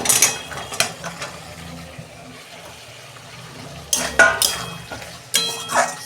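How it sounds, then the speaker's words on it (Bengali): Mixed vegetables and cabbage are stir-fried in a salted spice mix for vegetarian khichuri, with a spoon scraping and clattering against the pan in sharp bursts over a faint background sizzle. "সবজিগুলো দিয়ে আর 2 মিনিট আমি কষাবো।"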